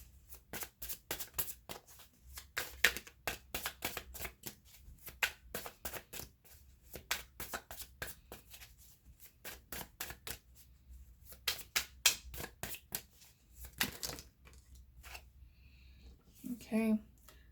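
Tarot cards shuffled close up in quick bursts of papery riffles and flicks, each run separated by brief pauses, with a voice heard faintly at the end.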